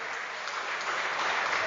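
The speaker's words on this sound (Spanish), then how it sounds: "¿Cuánto da un aplauso al Rey de Reyes?" Steady, dense applause from a church congregation, continuous and fairly loud with no pauses or voices standing out.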